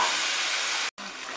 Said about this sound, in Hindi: ग्रेवी में अच्छा बॉईल आ रहा है।